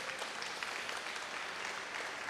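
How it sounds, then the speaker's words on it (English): A live audience at an ocean-farming open house breaks into sustained applause, dense steady clapping filling the whole moment with no talk over it. "That deserves a round of applause,"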